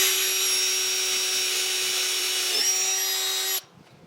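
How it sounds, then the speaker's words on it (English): A power drill bores a hole for a throttle cable bracket, giving a steady high whine that holds for about three and a half seconds and then cuts off abruptly into near silence, loud and close. "I got my hole drilled right here for this bracket"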